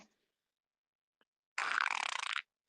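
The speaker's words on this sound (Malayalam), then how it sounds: "എന്തൊരു വളിയാണ്" A fart rips out in a single buzzy burst of just under a second, fluttering and fairly close, after a long stretch of near silence.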